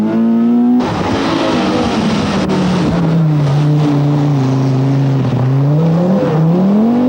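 A Datsun Silvia rally car roars past on a stage of the 1982 RAC Rally, its engine note loud and close, swelling and dropping as it changes gear.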